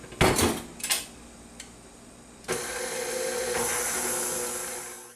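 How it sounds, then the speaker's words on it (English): Whisk scraping and rattling against a bowl while sugar and cornstarch are beaten into a paste for lemon meringue pie, a few sharp clinks at first, then a steady, fairly loud continuous swish. "we're just going to whisk this together in here until we have a nice paste"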